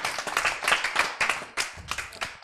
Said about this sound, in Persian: شما هم تا وقتی میای تشویقش کنیم.